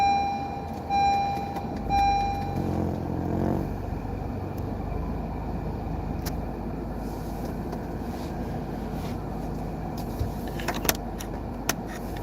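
A parked vehicle starts up on a warm day, a short cranking burst giving way to a steady low engine idle that runs on, with a few faint clicks and rattles near the end.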